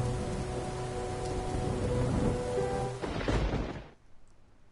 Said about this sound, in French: J'aime la pluie.